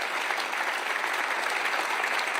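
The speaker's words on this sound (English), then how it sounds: "Please give him a round of applause." Steady audience applause for a Knesset member at a Night to Honor Israel event, an even, continuous roar of many hands clapping with no break.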